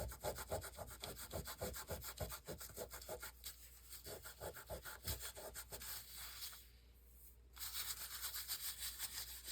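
Fingers rubbing finish into a wooden surface by hand, a steady run of quick rhythmic strokes with a close, dry scrubbing texture, briefly pausing near the end before resuming.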